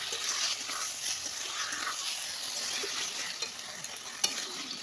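Spice paste of cumin, onion, garlic and ginger sizzles steadily in a pan with occasional stirring scrapes, a continuous close frying hiss throughout.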